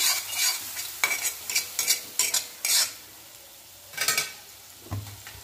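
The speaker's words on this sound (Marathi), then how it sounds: "तेलात थोडंसं परतून घेऊया, थोडीशी हळद टाकूया, मिक्स करून घेऊया" Vegetables and ground masala with turmeric being stirred in hot oil in a pan: a soft sizzle beneath a series of close scraping, clinking spoon strokes in uneven bursts.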